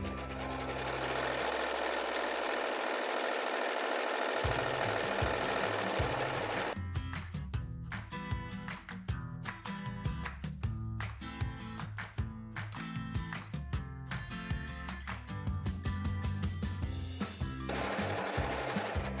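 A sewing machine stitches fabric strip sets, its needle hammering in a fast, even mechanical rhythm close by, loud and steady with brief stops and restarts, no talking.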